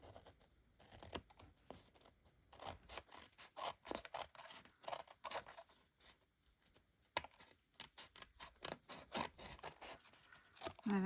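Scissors snip and trim a sheet of designer series paper in a series of short, crisp cuts and rustles, close and fairly quiet, in uneven bursts with brief pauses.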